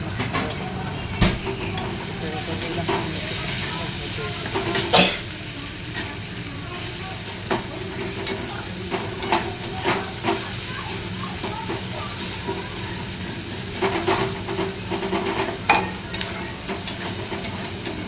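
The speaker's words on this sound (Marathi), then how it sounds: "टोमॅटो व्यवस्थित भाजायचा." Tomatoes roasting with salt in a pan for dal khichdi, a steady loud sizzle and hiss with repeated scraping stirs throughout.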